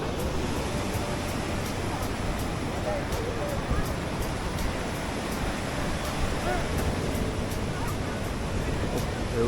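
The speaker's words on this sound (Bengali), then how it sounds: "পুরী সমুদ্রের ঢেউ," Sea waves on Puri beach roll in as a continuous loud roar of surf, mixed with heavy wind buffeting the microphone for the whole stretch.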